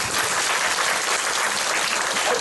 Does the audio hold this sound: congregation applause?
yes